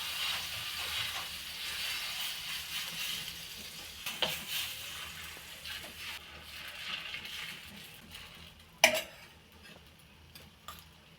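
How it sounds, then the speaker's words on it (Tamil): Cucumber dosa batter is poured and spread across a hot pan, a faint steady sizzle with soft scraping and a few sharp taps of the ladle against the pan, with no talking. "இப்போது தோசை ஊற்றிக்கலாம்."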